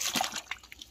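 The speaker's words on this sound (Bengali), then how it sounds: "পাতা একটু জল ছিটিয়ে দে, ধুয়ে নে পাতাটা" Water splashes onto a banana leaf to rinse it, a brief, faint splatter at the start that trails off into soft drips.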